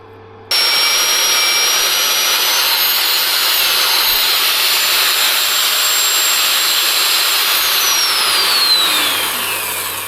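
A drill boring a deep hole in steel on a 16-ton dump trailer under repair, a loud, steady, high-pitched whine that starts abruptly and holds without letup, a faint tonal shift near the end as the bit works through the swarf.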